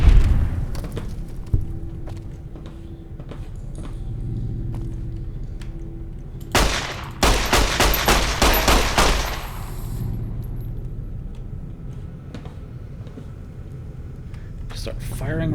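Gunfire in Fallout: New Vegas, a loud burst of rapid shots with sharp cracks following a few scattered single shots, over a low in-game rumble, with someone talking.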